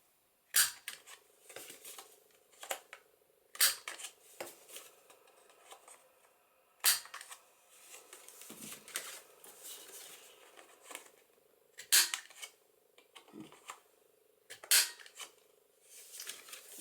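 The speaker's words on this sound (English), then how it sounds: "now I think I will cut round the corners also" Scissors cut rounded corners on a paper craft pocket embellishment, giving a series of crisp, close snips at irregular intervals with soft rustling between them.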